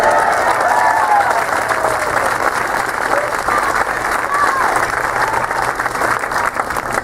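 A crowd applauds at a Rick Santorum political rally in Coral Springs, South Florida, with sustained dense clapping that holds steady for several seconds and faint cheering mixed in.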